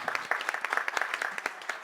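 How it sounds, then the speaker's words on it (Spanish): Audience applause in an auditorium during a book-day poetry event, a short burst of brisk, moderately loud clapping from a crowd. "Para ellos un aplauso bien fuerte."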